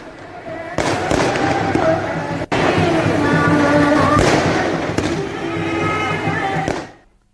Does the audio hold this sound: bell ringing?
no